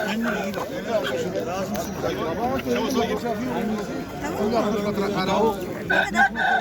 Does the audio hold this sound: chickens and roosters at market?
yes